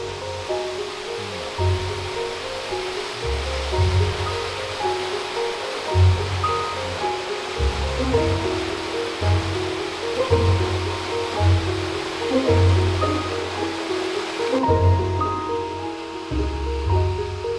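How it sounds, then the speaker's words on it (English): A mountain waterfall in Japan gives a steady, full rushing roar of falling water, close and continuous throughout, with no voices. "Waterfalls never disappoint"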